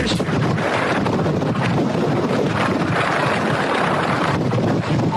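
Strong wind blows across an exposed outdoor spot, a continuous loud roar buffeting the microphone throughout with no letup.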